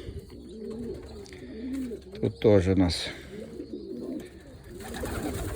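Sport racing pigeons coo softly in a low, rolling burble, with a brief louder flutter of calls midway while a person talks quietly over them.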